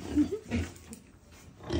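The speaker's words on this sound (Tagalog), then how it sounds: "Mga baboy ko." Pigs on a farm grunt and snort in short, low bursts at close range, two or three soft grunts in quick succession.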